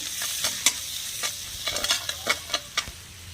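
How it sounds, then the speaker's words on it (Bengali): Turmeric, red chilli powder, chaat masala, chopped coriander and salt stirred in a hot pan, a steady sizzle under a series of distinct scraping strokes of the spoon, close and moderately loud, with no voices. "মশলাটা হালকা নেড়ে নেব।"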